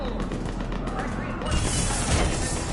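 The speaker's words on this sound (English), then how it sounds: "Taking enemy fire." Gunfire in Mass Effect 3, a dense rattling burst of rapid shots and impacts that swells louder partway through, close and continuous with no pauses.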